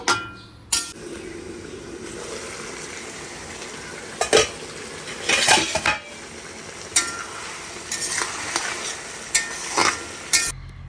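A cooking pot in a home kitchen is covered with its lid while utensils clatter. Sharp metallic clinks and knocks come at irregular intervals over a steady low sizzle or simmer, close and fairly loud, with no talk.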